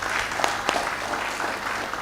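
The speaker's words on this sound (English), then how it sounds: "Please, a round of applause for him, please." Audience applause at an international health investment summit, a steady moderate wash of clapping from a conference hall crowd lasting throughout, with no voices over it.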